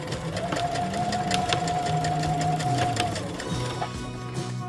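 Sewing machine stitching up a fabric drawstring bag, a steady close whirring run of needle strokes that holds for about three seconds, then slows and pauses with light handling noise.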